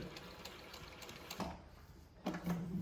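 Vinlex VX-1530-DD zigzag leather sewing machine running a reverse stitch to lock a straight seam, a quiet mechanical whirr with short bursts of motor hum, close and alone.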